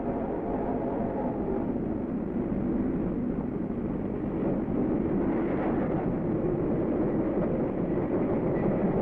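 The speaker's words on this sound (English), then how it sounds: "Can't you hear the train coming?" A steam-era train from the 1930s approaches in open country, a steady broadband rumble and clatter holding loud and continuous throughout with no voices over it.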